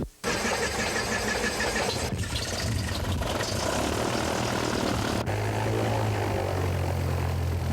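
A small propeller airplane in flight, the engine a loud, steady drone with a constant low hum and broad rushing noise filling the cabin from start to finish.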